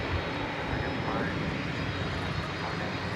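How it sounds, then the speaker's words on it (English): An Airbus A321 arriving at DFW airport from Denver produces a constant, fairly loud jet engine roar, with a voice speaking over it. "That's flight 1322 coming in from Denver, Colorado. Airbus A321."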